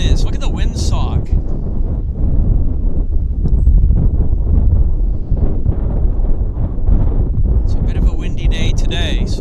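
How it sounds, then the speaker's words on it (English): Strong wind buffets the microphone at Vancouver Airport, a loud constant low rumble throughout, with faint higher sounds at the start and end. "But you can see how the wind is"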